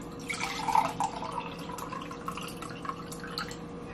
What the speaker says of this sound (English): I'm gonna pour a cup of water in here.